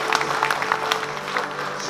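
Audience at a Korean community awards ceremony claps briefly, a moderate, steady scatter of hand claps in a hall with no talk over it.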